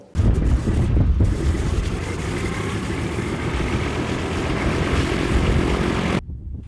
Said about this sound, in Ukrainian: Перед відльотом літак моделі Ан-2 ретельно перевіряють механіки.